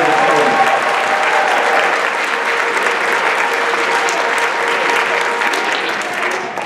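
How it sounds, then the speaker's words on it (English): Sustained applause from an audience at a live student jazz performance, a dense steady wash of clapping that holds loud throughout and fades slightly at the end. "So can we give one more round of applause to all the students who are going to stand up?"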